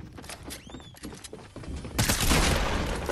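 Gunfire in the Fortnite Battle Royale video game: a burst of rapid, loud shots erupts about two seconds in and continues as a dense fusillade, preceded by quieter game effects and scattered pops.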